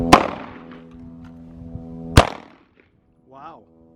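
Two sharp, loud Glock 19 Gen 5 pistol shots ring out about two seconds apart at a shooting practice, each with a brief ringing tail, followed by a short voice.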